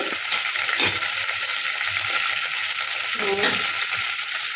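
Whole garam masala spices and cardamom pods sizzle in hot oil in a pan, a steady, bright frying hiss with a few soft stirring knocks, fairly close, with no talking over it.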